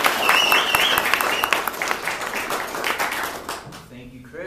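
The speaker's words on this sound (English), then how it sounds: "So let's give actually Scott Nelson a big round of applause." A meetup audience claps to welcome a presenter, a dense burst of applause that stays loud for over three seconds and then quickly dies away, with voices rising at the end.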